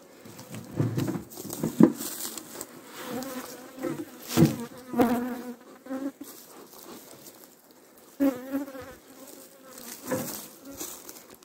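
An attacking honeybee swarm at a hive, a dense droning buzz of many bees close by, rising and falling with louder bursts as insects pass near, with some handling noises and no talk.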